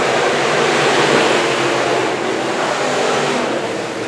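Sport modified race cars roaring around the oval at Antioch Speedway on a green-flag restart, a loud continuous wash of engine noise with no pauses.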